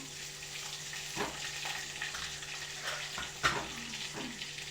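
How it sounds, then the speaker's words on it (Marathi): Salt-stuffed green chillies fry in a pan with a low, steady sizzle, joined by a few soft utensil knocks and one sharper clack, quiet and close, with no voices. "हे आपण जे मिरच्या करून घेतलं होत्या मीठ भरून तर मिरच्या घालू मिरच्या छान पडल्या"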